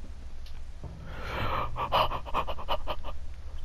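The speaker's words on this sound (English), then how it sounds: "If you can hear my breathing there" Heavy, rapid panting comes from a player in a horror game, close to the microphone, as a string of short, quick breaths that grow louder partway through and go on without talk.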